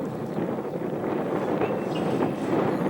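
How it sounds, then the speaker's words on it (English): Steady wind buffets the microphone outdoors beside water during a fly fishing outing, a continuous low rushing roar with no voices. "Now the wind's coming from my left side"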